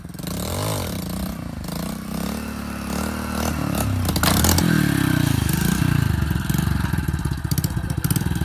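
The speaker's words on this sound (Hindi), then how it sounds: "मोटरसाइकिल आया।" A motorcycle engine rumbles and revs closer, growing louder with clattering, uneven bursts as it pulls in nearby.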